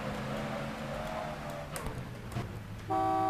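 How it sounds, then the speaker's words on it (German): A car horn sounds in the video game GTA Vice City, one sustained honk cutting in abruptly at the end over a quiet engine idle and traffic murmur. "Hupe."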